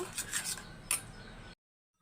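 A spoon stirs ginger garlic paste and water in a bowl, with light scraping and a couple of bright clinks against the rim before the sound cuts off.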